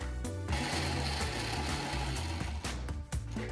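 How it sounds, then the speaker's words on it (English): A blender runs on high, blending raisins and tahini for chamoy sauce, with a dense, loud and steady whirring roar throughout. "We're gonna put it in a blender with the tahini and blend on high"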